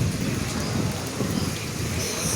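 Heavy rain pours down steadily and close, with low rumbling thunder rolling underneath, heard while travelling toward Quiapo in Manila during a storm; no one speaks.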